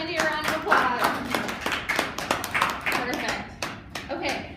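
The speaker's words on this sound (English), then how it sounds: "Okay, give Andy a round of applause." A small group claps in a round of applause during a cooking lesson, with uneven, sharp hand claps mixed with cheering voices and children talking over them.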